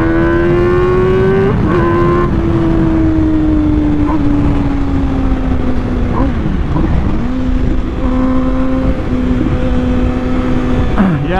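A 2020 MV Agusta Brutale 1000 Serie Oro Limited Edition motorcycle is ridden hard, its engine loud and close, holding a high whine that jumps and drops with repeated shifts and throttle changes.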